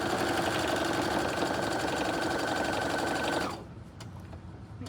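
A sewing machine runs steadily for a few seconds while sewing a tote bag seam with backstitching, a close, continuous mechanical whir that then stops, leaving a quiet room with a couple of faint clicks.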